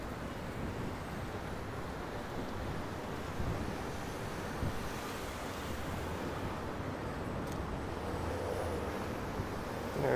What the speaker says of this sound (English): I got some wind blowing right in my eyes